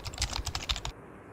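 A quick burst of typing on a computer keyboard while entering text for stylized Bengali font lettering, roughly eight close, rapid clicks that stop abruptly into near silence.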